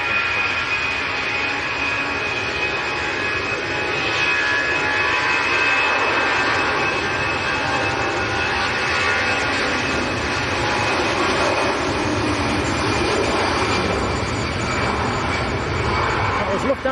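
A Lufthansa jet airliner bound for Munich roars steadily at Manchester Airport on a windy day, a broad sustained engine whine and rush lasting throughout, heard from the ground with no speech over it.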